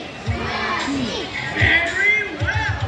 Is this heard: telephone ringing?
no